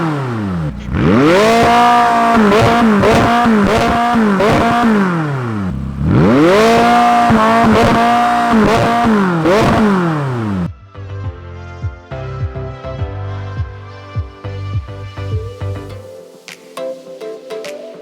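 A McLaren 600LT sports car revs hard twice in long rising-and-falling roars, loud and close, then settles into a lower burbling idle with smaller blips as the engine winds down.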